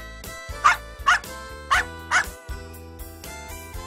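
A dog barks four times in quick, evenly spaced yelps over a steady musical background, each bark short and moderately loud.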